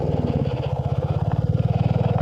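A Royal Enfield motorcycle engine labours under load with a steady, throbbing low thump, held close and continuous with no talk over it.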